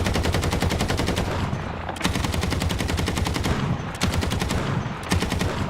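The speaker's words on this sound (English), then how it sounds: "there's a new firing sound for the machine gun." A new machine gun firing sound in War Thunder plays as loud, sustained rapid-fire bursts with brief breaks between long strings of shots, heard alone without any talk.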